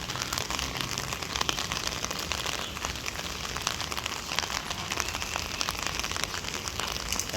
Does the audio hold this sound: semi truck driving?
no